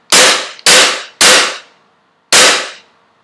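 An airsoft G18C Glock pistol fires four sharp, loud single shots close by. The first three come in quick succession and the fourth follows after a short pause, with each crack decaying quickly.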